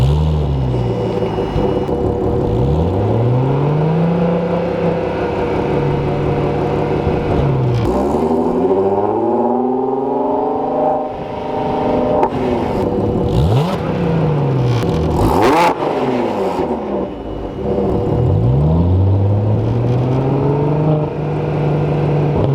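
Car fitted with a loud aftermarket performance exhaust, revved hard in several repeated cycles, each climbing sharply to a high snarl and then dropping back to a deep burble, close and loud with no talking.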